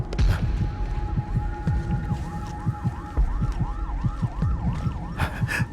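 An ambulance siren wails up and down in a steady repeating cycle, moderately distant, over a rhythmic thumping beat and background clatter.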